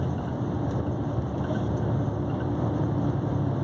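A truck engine revs steadily under load while climbing the Serra do Cafezal mountain road, a continuous loud low drone with broadband road and wind noise throughout.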